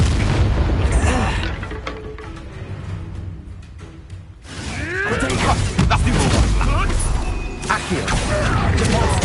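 A Confringo blast in Hogwarts Legacy erupts in heavy booming explosions with crackling bursts. The loud, dense noise dips briefly, then surges again while a person talks over it.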